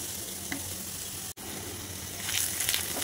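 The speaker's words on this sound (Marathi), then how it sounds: "तेलामध्ये परतून घ्यायचे। कांदा थोडा मऊ व्हायला पाहिजे।" Onion sizzling and frying in hot oil while being stirred in a pan, a steady close crackle with a brief break midway and brighter spatter toward the end.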